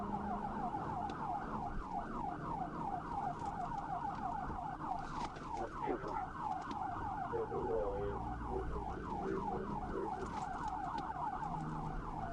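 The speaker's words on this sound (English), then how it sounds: "Trooper Little activated his emergency lights and siren and initiated a pursuit with caution due to oncoming traffic." A police car's emergency siren wails during a pursuit, cycling up and down in a fast rhythmic yelp, loud and steady over road and engine noise.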